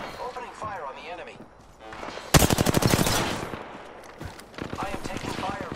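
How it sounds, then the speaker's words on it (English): Rapid automatic gunfire from an Apex Legends firefight bursts out in a loud volley of close shots, with further scattered shots after it and a player's voice talking through parts of it. "Opening fire on the enemy."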